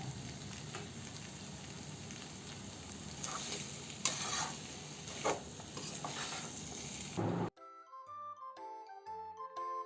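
Sizzling and crackling of potatoes frying in a pan for samosa filling, with roasted spice powder stirred in with scraping sounds, then a short bright melodic chime tune takes over near the end.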